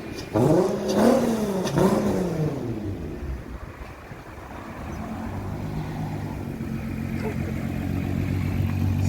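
A Mk2 car runs on a dyno, its engine revving and rising in pitch a couple of times before dropping to a lower steady drone, with voices talking over it.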